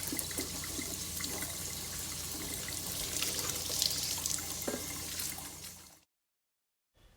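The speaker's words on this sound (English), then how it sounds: "take your paper towel and get it wet" Water runs steadily from a tap onto a paper towel to dampen it for sprouting seeds, a close, continuous rushing stream lasting about six seconds before cutting off into silence.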